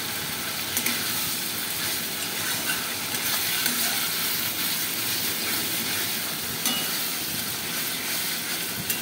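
Spice paste sizzling in a pan for Bengali chana dal, a dense continuous hissing fry with faint crackles and occasional stirring scrapes, steady and close with no voices.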